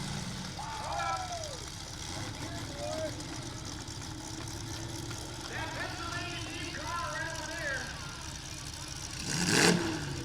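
A race car engine at a crash course race at the Erie County Fair in Sandusky, Ohio, revs in rising and falling sweeps over a steady rumble, with a sharp loud burst of noise near the end, as a red flag comes out.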